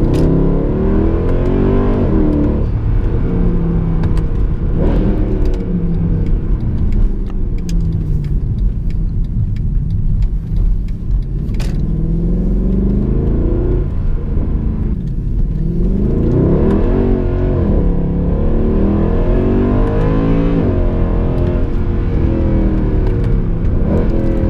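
A Mercedes-Benz W204 C63 AMG drives and accelerates repeatedly, its loud engine note rising and falling through gears in sustained surges from close inside the car, with no talking.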